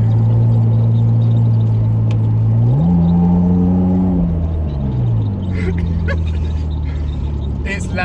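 A Nissan R34 Skyline fitted with a Blitz Nur Spec exhaust drones loudly from inside the cabin, its steady idle note rising briefly with a light rev before settling, while someone talks over it.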